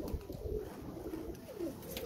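Serbian Sultan pigeons cooing softly in a breeding loft, low rolling coos repeating over a steady background murmur with no talk.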